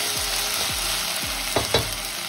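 Garlic and ginger paste fries in a pan with a constant sizzle while a spoon scrapes and stirs through it in several short strokes, close by and with no talking.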